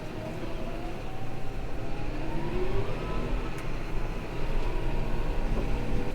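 A John Deere 6155R Ultimate Edition Vario tractor drives forward toward a field, its engine a steady close rumble with rising whine tones as it moves, and no one talking over it.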